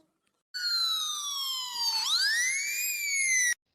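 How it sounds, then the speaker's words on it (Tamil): A single loud ambulance siren wail passes close by, its pitch sliding down, then sweeping back up before cutting off. "நம்ம ஊர்ல இருந்து ஆம்புலன்ஸ் போகுது"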